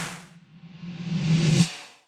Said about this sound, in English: The reverb is backwards, but still comes after the snare hit.